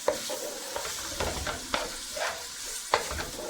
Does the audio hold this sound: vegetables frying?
yes